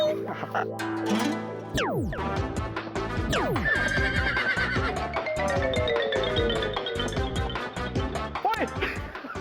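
A horse whinnies with sharp rising and falling cries amid busy music and sound effects of a wedding procession, with some voices mixed in.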